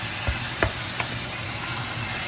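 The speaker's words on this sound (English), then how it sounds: "So right now I'm just browning off the beef" Ground beef for taco meat browning in a pan, a steady close sizzle broken by a few soft knocks and scrapes as the meat is stirred and broken up.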